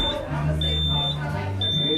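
A college dormitory fire alarm sounds with repeated high-pitched beeping pulses over a low electronic drone, with people talking underneath.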